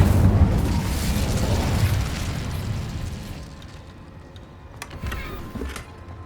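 An Incendio fire spell in Hogwarts Legacy goes off as a loud booming burst with a rumbling low roar that fades over a few seconds, followed by fainter crackles and pops.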